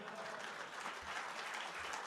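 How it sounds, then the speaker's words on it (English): Audience at a political convention dinner applauding, a soft, continuous wash of clapping heard from a distance in a banquet hall, steady throughout the short stretch. "deserve your applause"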